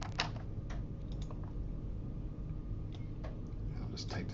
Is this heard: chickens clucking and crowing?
no